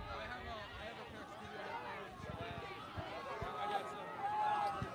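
Crowd of fraternity fans cheering and shouting during a men's IFC tug of war match, a steady dense roar of many voices that swells louder toward the end.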